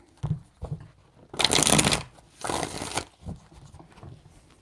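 Tarot cards are shuffled in several quick riffling bursts, crisp papery flutters separated by short pauses and light taps, close and clear with no talking.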